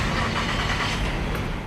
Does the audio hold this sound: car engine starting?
yes